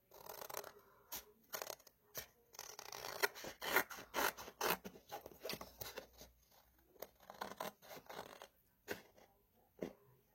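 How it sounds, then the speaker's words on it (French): Scissors snip around paper for a junk journal in a quiet room, a long run of short, close crisp cuts in an uneven rhythm, with no talking. "Et comme ça, j'ai plus qu'à couper autour."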